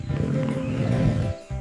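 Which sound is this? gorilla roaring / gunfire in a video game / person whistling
gorilla roaring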